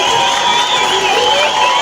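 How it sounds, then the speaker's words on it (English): A rally crowd in Nebbi cheers loudly and steadily, with shouting voices held in a sustained roar up close and no clear pauses. "Please clap for yourselves."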